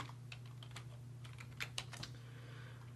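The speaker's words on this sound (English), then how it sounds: "I'm going to type in T7833-X3." A camera name is typed on a computer keyboard, with a quick run of soft, close key taps over a steady low electrical hum. The taps are quiet and no one speaks.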